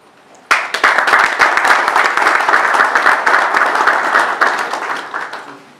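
An assembly applauds the president of the UDPS youth league as he stands, a dense, loud burst of clapping that starts abruptly and holds steady for several seconds before easing slightly.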